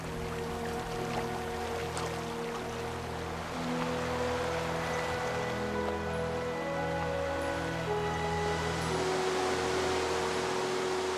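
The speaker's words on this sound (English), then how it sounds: "The composition gains momentum with the sound of rushing water." Rushing water of the Colorado River flowing through a canyon, a steady broadband roar at moderate level that stays continuous throughout, with low tonal layers of music blended underneath.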